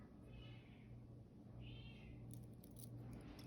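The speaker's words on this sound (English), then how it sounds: "And my deaf kitty is also howling." A deaf cat howls in two drawn-out wailing bursts, fairly close, over a steady low hum and light background rattling, with no talk.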